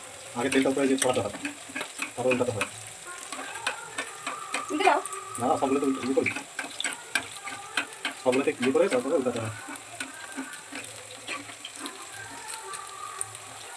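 Sabudana pakoras fry in hot oil, a bubbling sizzle under intermittent clatter as they are turned, with running water and a faint voice at times.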